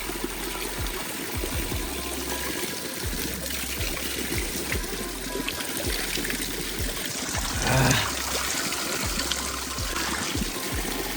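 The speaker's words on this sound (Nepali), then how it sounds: "पानी उम्रेको रहेछ यतै" Water from a mountain spring in hilly Pyuthan, Nepal trickles and dribbles steadily, a soft continuous flow with small splashy pulses and a brief louder gush near the end, heard alone without talk.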